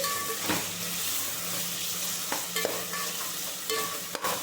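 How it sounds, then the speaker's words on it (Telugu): Ginger garlic paste fries among vegetable pieces in a pan for vegetable biryani, a steady close hiss with soft clinks and scrapes of stirring throughout. "చూసారా ఎంత బాగా వేగుతుందో అల్లం చుల్లులపై పేస్ట్ కూడాను"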